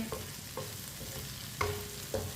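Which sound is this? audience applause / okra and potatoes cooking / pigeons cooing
okra and potatoes cooking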